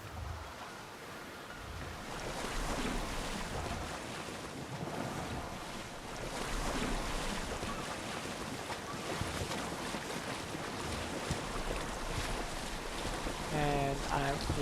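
Ocean waves roll and wash continuously in the Assassin's Creed Odyssey video game, a broad surging hiss with wind, steady and fairly loud, swelling in slow waves over the whole stretch.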